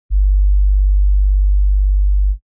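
A single loud, steady low sine tone holds for about two seconds and then stops, with two detuned sine waves beating gently against each other through phase cancellation.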